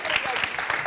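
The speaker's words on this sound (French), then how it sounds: "On va applaudir pour Drabo le chancelier, s'il vous plaît." Applause from a studio audience at a televised talk show, a brief burst of clapping with a voice speaking over it.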